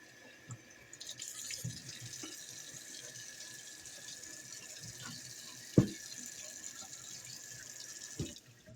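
Tap water runs steadily into a sink while raw meat is washed by hand, a continuous splashing hiss with a few soft knocks and clatters of handling throughout, close by, with no talking.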